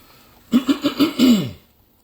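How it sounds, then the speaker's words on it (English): A series of short, rough throat-clearing grunts, about five quick bursts in a row, close and fairly loud, ending in a longer gravelly rasp. "let me clear my throat."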